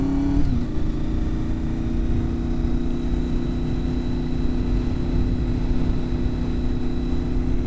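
A motorcycle pulls away steadily after a slow U-turn, its engine a continuous close, even drone with a slight rise in pitch near the start as the throttle opens.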